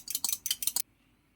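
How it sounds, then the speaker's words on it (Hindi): A fork rattles quickly against a bowl while an egg is beaten, giving a run of bright rhythmic clicks for under a second before it stops, close and fairly quiet with no talking. "एक अदद हमने अंडा लिया है, इसको बीट करके इसमें शामिल कर देंगे।"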